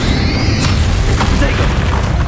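A Bombarda spell blast in Hogwarts Legacy during a final battle against a dragon: a loud, deep boom with a rumbling, noisy tail filling the whole moment, with no clear talk over it.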